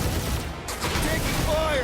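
Incoming gunfire in the Marvel's Guardians of the Galaxy video game, a brief dense clatter of shots and blasts, loud and continuous, with a voice mixed in.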